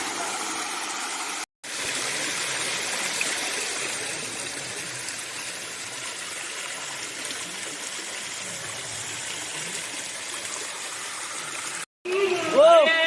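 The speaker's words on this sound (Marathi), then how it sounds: "आणि बघा इथं छोटा झरा" A small stream flows steadily through Konkan woodland nearby with a constant gentle rushing and babbling, continuing without pause for several seconds.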